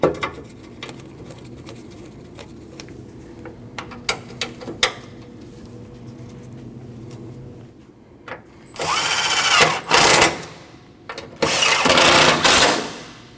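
A power tool driving bolts back into the AC condenser bracket of a 2012-2021 Nissan NV2500, several loud close whirring bursts in the second half after quieter clicks and taps of handling.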